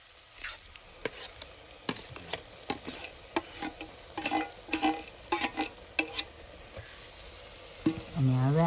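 Chopped roasted eggplant mash fries in a pan and is stirred, giving a soft sizzle under repeated sharp scraping strokes of a spoon, fairly close and moderately quiet.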